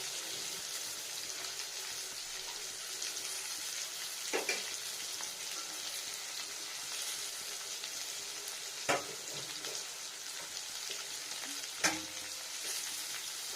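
Potatoes fry in ghee in a pan for a vegetarian dish, producing a long, even, moderately loud sizzle broken by a few sharp clinks of a utensil against the pan; nobody speaks.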